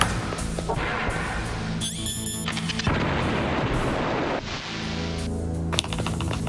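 Grenade explosions in a 1998 video game: several crunchy blasts and crashes over a dense, clattering game soundscape with electronic tones. No voices.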